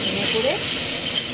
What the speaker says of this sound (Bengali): মশলাটা কষাতে হবে।